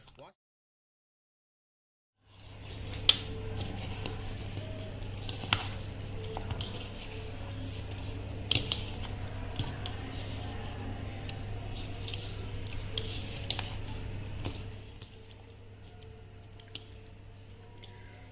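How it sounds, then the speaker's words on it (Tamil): Fish is worked by hand with masala and oil, giving soft wet squishing and smacking sounds close up over a steady low hum after a brief silent start. "ஓகே, நம்ம இப்போ வந்து இதை வந்து மிக்ஸ் பண்ண ஆரம்பிக்கலாம்."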